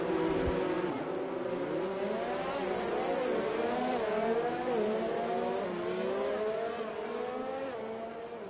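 Race cars in a video game head out onto the Monaco street circuit for qualifying, a steady layered engine drone with rising and falling tones from several cars, continuous and fairly loud throughout.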